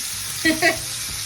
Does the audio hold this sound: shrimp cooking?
yes